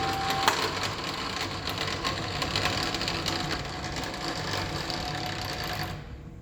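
A drill press with a geared speed selector runs steadily, a loud continuous mechanical whir and hum with a brief click near the start, alone without talk, cutting off abruptly at the end.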